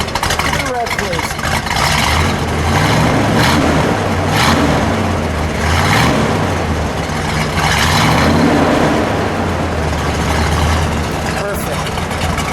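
A 1973 Buick Century Gran Sport with a 455 engine running loud and close, its exhaust rising and falling through several revs, with people talking over it.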